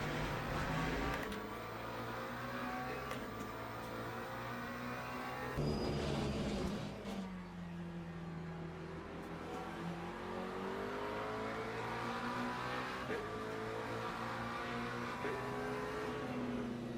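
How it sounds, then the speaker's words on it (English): Simulated Mustang race car engine in the Le Mans Ultimate racing game, a steady loud drone with rising and falling revs through gear changes, continuous and close with no talk. "and then I can drive my Mustang."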